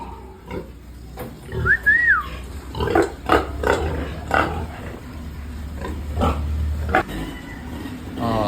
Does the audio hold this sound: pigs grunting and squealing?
yes